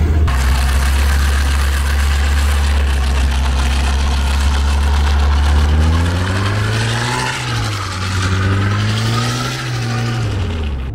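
A car engine with a welded differential drifting on a gymkhana course, running loud and steady throughout, with pitch rising and falling in revving swells during the second half.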